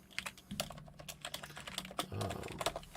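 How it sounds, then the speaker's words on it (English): Rapid computer keyboard typing, a steady run of close, crisp key clicks with a few heavier strokes, no voices. "I hear the keyboard."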